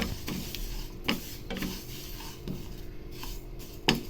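Sesame seeds roasting in a pan are stirred continuously, giving a soft repeated scraping and rustling with occasional sharper knocks of the spoon against the pan.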